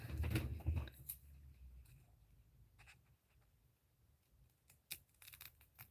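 Scissors cut through tote bag material in a few short, crisp snips near the start, followed by quieter rustling and scattered handling clicks close by, with no talking.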